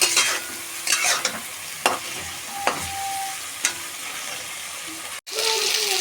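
Pilui being stirred and fried in a pan, with a loud, close, continuous sizzle broken by a few sharp scrapes and knocks of the spatula, and a brief gap near the end.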